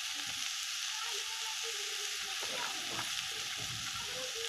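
Potatoes and spring onion leaves fry steadily in a pan as salt is stirred in, with a constant sizzling hiss and repeated scraping stirs, fairly close and with no talk.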